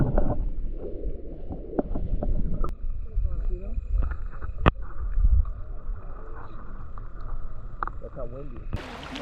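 Steady wind buffets the microphone on a beach at Castaway Cay, a low, rumbling roar that gusts unevenly throughout, with faint background sounds beneath it.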